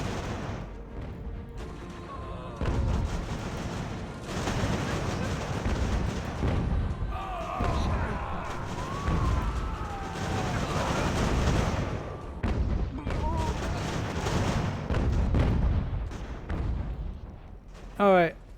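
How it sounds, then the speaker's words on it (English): Cannon fire from artillery in Ultimate General American Revolution, the British invasion at Monroe, booms repeatedly in loud, heavy thuds amid continuous battle noise. "Oh, it's the cannons that are hurting us."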